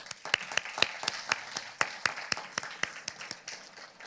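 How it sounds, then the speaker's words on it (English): Banquet audience applauding Golden Club alumni, a small group giving sparse, distinct claps that ring out individually in a loose, uneven rhythm for about four seconds. "So we'll give them a round of applause as well."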